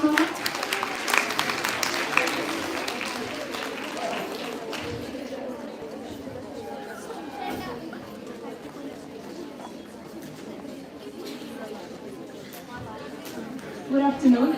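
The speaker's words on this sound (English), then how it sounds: "Can you have a round of applause for her?" An audience applauds in a college hall at a Bharati College, University of Delhi event, with dense clapping loudest in the first few seconds and then settling into a softer patter mixed with murmuring voices.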